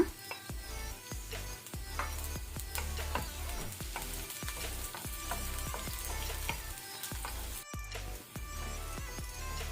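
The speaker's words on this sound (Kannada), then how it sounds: "ಬೆಳ್ಳುಳ್ಳಿ ಸ್ವಲ್ಪ ಕೆಂಪಾಗ್ತಾ ಬರುವಾಗ ನಾವು ಗ್ರೀನ್ ಚಿಲ್ಲಿ, ಹಸಿಮೆಣಸು ಹಾಕೋಣ" Garlic and green chillies frying in oil over a low-medium flame, a dense continuous sizzle with crackling pops and occasional stirring clatters, close and steady throughout.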